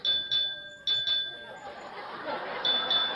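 A bright trolley bell rings several quick times in short bursts, then again near the end, over a low murmur of people chatting.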